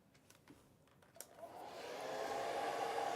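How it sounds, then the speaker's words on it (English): A blow dryer switched on to dry watercolor paint: a few faint handling clicks, then a steady airy whine that builds over a second and holds loud and constant. "So let me get the blow dryer out."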